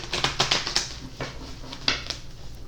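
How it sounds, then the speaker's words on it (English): Quick crisp riffling and slapping of tarot cards being shuffled, a burst of sharp clicks followed by a few slower taps, close by. "So we'll shuffle"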